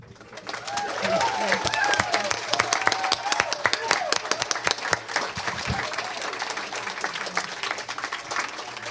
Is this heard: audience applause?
yes